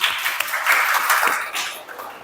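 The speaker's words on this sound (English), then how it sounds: "Give applause to Zidan." An audience at an academic teaching session applauds a questioner, a brief burst of clapping that swells and then fades within a couple of seconds.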